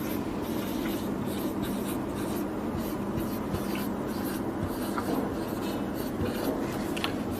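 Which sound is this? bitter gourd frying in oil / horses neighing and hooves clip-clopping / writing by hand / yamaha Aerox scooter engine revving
writing by hand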